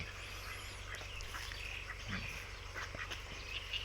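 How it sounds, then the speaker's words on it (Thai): Khaki Campbell ducks quack in short, repeated calls at a moderate distance, layered over a low steady background hum. "เป็ดกากีไม่ค่อยคุ้นเท่าไหร่นะครับ"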